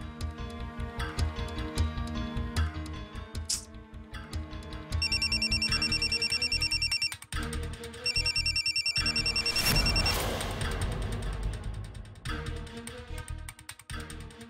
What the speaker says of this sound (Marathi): नक्कीच हा बयोचा फोन असतो.